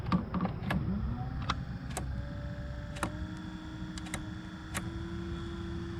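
Electric trolling motor running on a boat, a thin rising whine that climbs in pitch and settles into a steady hum, with scattered sharp clicks and ticks around it.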